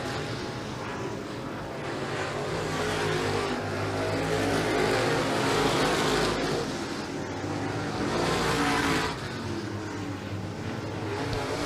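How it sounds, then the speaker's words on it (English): Race cars lapping at Humberstone Speedway, a dirt oval race: a dense, loud roar of engines swelling and fading as the pack passes, sustained throughout with no break. "As Pitts picks off another lap, he is about a straightaway ahead of the field."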